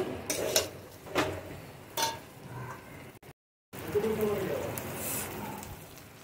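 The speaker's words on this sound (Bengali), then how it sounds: "এবার কোপ্তাগুলো দিয়ে ভালোভাবে মিশিয়ে নেব" Kofta of raw jackfruit are stirred into a spiced gravy in a pan, with clinks and scrapes of a utensil against the pan over a light sizzle, then a short gap and more mixing sounds.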